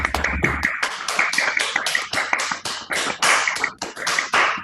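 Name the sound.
online meeting participants clapping for the speakers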